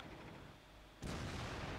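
A tank cannon fires in the World of Tanks video game, one sudden booming shot about a second in that cuts through a low background and leaves a sustained rumbling tail.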